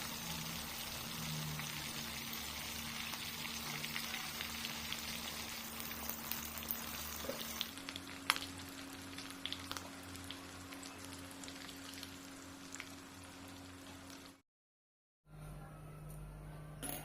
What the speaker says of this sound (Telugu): ఫ్లేవర్ కోసం కరివేపాకు వేస్తున్నాము